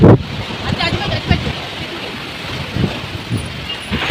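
Strong gusty wind before rain shakes swaying trees outdoors. A loud, rumbling roar buffets the microphone in surges, and a voice can be heard faintly at times.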